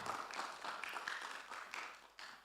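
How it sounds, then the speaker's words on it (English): An audience at an international research conference claps for a paper presenter, a faint, steady patter of many hands lasting a couple of seconds before tapering off. "Let's clap for Nicodemus."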